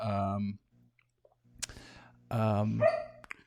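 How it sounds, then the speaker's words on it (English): A dog barks in the background in two short, loud bursts separated by a quieter stretch with low hum and a few clicks. "my dog's barking in the background."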